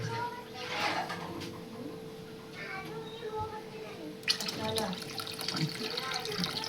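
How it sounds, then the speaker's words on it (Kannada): Water poured from a small vessel into a cooking pot for pulao, a soft steady trickle that turns into a louder splashing gush halfway through, with a faint voice in the background. "ಒಂದು ಚರಿಗೆ ನೀರು ಹಾಕೈತ್ರಿ."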